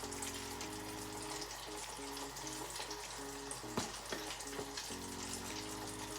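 Seasoned salmon deep frying in a pan of oil, a steady crackling sizzle with a low hum underneath and a few sharp pops, fairly faint and uninterrupted.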